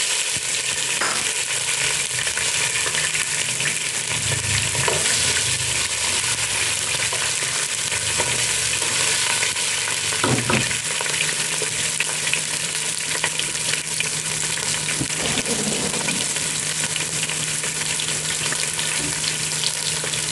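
Small onions frying in a pan for Arabian chicken majboos, giving a loud, continuous sizzling hiss with a few soft stirring scrapes underneath.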